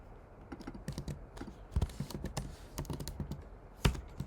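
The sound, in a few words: typing on a computer keyboard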